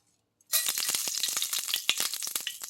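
Mustard seeds dropped into hot oil for a Tamil cabbage poriyal, starting abruptly after a short silence and bursting into a loud, crackling sizzle with rapid popping.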